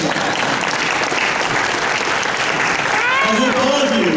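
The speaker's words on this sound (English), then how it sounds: "give a round of applause for that" A crowd gives a loud, full round of applause at a public speech in Denver, sustained clapping that fills the room. A voice rises over it toward the end.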